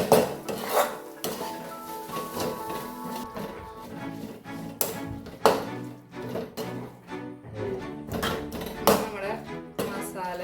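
Ground pepper is stirred into onion chutney in a pan, with a spoon clanking and scraping against the metal in irregular knocks, close and fairly loud, while a person talks over it.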